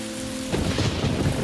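Heavy rain pours with a deep rumble of thunder rising midway, loud and enveloping, in a short burst from a web series scene.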